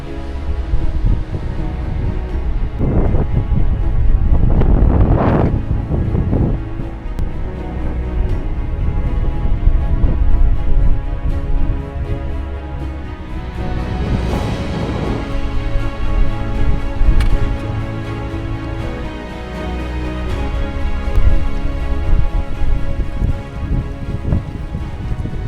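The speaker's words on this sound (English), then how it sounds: "As evening falls, the winds grow stronger, colder, sharper, relentless." Strong, steady wind roars around a high mountain trail near Everest in the Himalayas at evening, with loud gusty rushing throughout and a few sharper surges that rise and fade.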